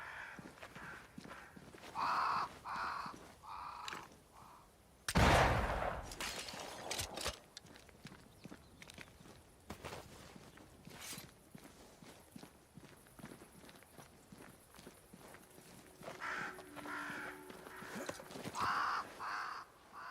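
Crows caw in several short bursts near a great tree in a dark fantasy world of Banishers: Ghosts of New Eden, with footsteps and a sudden loud rush between the calls.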